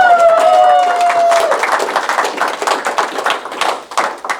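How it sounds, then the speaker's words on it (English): A conference audience gives a round of applause, dense clapping that starts loud with a whoop, then thins into scattered individual claps as it fades. "Let's give a great big round of applause"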